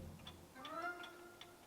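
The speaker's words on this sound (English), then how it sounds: "Here is the sound of the clock." Several clocks in a Tudor manor house tick in an irregular run of sharp, faint clicks over a quiet room, with a soft tone faintly sustained underneath.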